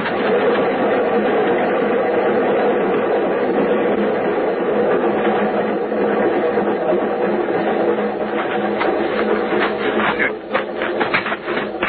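A moving train in a radio drama: steady, dense rumbling and clatter that runs continuously and loudly throughout, with no talk over it.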